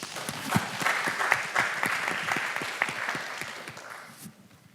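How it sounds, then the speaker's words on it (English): A crowd claps steadily for several seconds, the applause fading out toward the end. "let's give them a big round of applause and a welcome."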